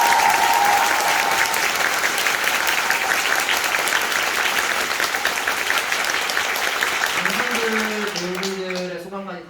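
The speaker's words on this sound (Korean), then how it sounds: "박수 한번 부탁드리겠습니다." A musical theatre audience applauds the ensemble actors at a curtain-call stage greeting, loud continuous clapping that gradually tapers as a voice begins speaking near the end.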